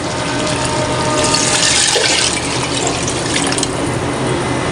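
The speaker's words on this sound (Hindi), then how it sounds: "तो अब इसमें डालते हैं पानी" Water pours steadily and loudly into a pot of cooked vegetables for a pulao, a continuous gushing splash that lasts the whole stretch with no talk.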